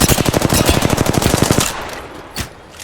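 Automatic gunfire in the video game Apex Legends, a rapid evenly spaced burst of close, loud shots lasting over a second, followed by quieter background noise and a single later thump.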